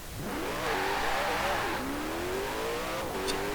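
Koenigsegg Jesko from 2020 accelerating hard in Forza Horizon 4, its engine roaring loud and close with rising revs, a shift partway through, then climbing again with a brief squeal near the end, heard alone with no talk.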